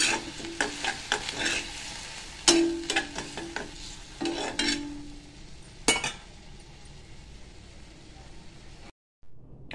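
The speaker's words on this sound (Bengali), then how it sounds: "এইভাবে একটু নেড়ে নেব।" A spoon stirs chicken with a splash of chicken stock in a pan, scraping and clinking in a quick irregular rhythm over a low sizzle, close and moderately quiet, then easing into a softer simmer.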